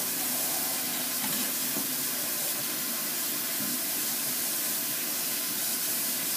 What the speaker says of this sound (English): So, I am going to mix this, rinse this off.